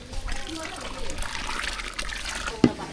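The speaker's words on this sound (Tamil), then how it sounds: "அது கூட லாஸ்ட்டாக புளி தண்ணி சேர்த்துக்கலாம்" Tamarind water poured into simmering sambar with vegetables and lentils, a brief trickling splash and liquid pour lasting a few seconds, heard close up with a sharp clink near the end.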